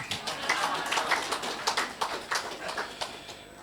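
An audience at an investment conference claps hands, a quiet scattering of irregular claps from a modest crowd heard at a distance.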